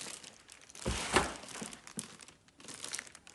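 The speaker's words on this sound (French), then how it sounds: "on peut déballer notre petit Thermomix" Packaging crinkles and rustles as a new Thermomix kitchen appliance is unwrapped, with close, irregular crumpling and a sharper tearing peak, quiet and without speech.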